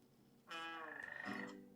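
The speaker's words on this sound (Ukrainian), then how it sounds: "Що це за жаба?" A cartoon frog in a children's animated series about a toy car gives one long, loud, drawn-out croak, with no talk over it.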